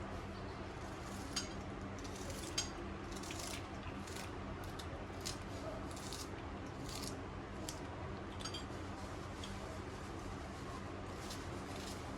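An onion being finely chopped with a knife gives faint, quick, irregular cutting taps against a quiet, hissy background.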